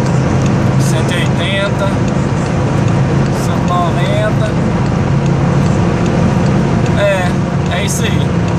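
VW Gol G6 1.6 hatchback cruising at top speed downhill, a steady droning engine and road roar with wind noise throughout, while someone talks over it.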